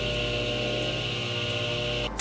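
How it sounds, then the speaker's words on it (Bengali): Electric tile cutting machine running at a townhouse tile job, a loud continuous motor whine with steady hum, cutting off abruptly near the end; no talk. "আর এটা হচ্ছে টাইলসের মেশিন। শব্দ কেমন"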